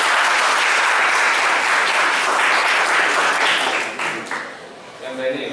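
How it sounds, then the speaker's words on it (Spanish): An audience at an academic event gives loud, dense applause to welcome a doctor as the first guest, and the clapping fades out near the end. "Démosle un fuerte aplauso al Dr. Jorge Perea."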